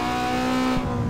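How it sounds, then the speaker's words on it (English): A car engine in the racing game Need for Speed Underground 2 holds a loud, steady, buzzing tone, then shifts pitch briefly near the end as if changing gear or easing off. "Oh, this car sounds way better."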